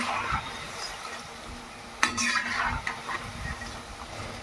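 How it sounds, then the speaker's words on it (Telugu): Onion pakoda fry in hot oil with a soft, steady sizzle, while a utensil occasionally stirs and knocks against the pan up close. "మిగతా అన్నీ కూడా ఇలానే ఫ్రై చేసుకుందాం."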